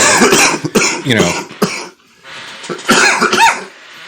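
A run of harsh coughs in close succession, a brief pause, then another burst of coughing, loud and close.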